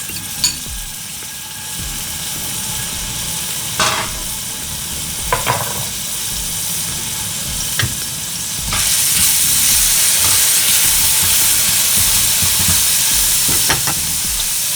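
Minced garlic hits a pan on medium-high heat, with a steady soft sizzle and a few clinks of a utensil, and the hiss swells louder partway through.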